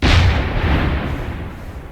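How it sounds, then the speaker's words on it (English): A tank cannon fires in the Minecraft Create Aeronautics mod, giving one loud, close blast that starts at once and decays into a long rumbling tail. "So you can turn the turret, elevation, and fire."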